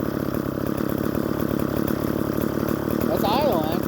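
A Craftsman gas string trimmer's small two-stroke engine idles steadily after warming up, with a buzzy, slightly uneven putter, close by; a person speaks briefly near the end.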